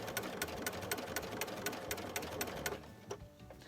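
A sewing machine fitted with a walking foot stitches a quilt in a rapid, steady mechanical clatter that runs close and loud, then slows and thins out near the end.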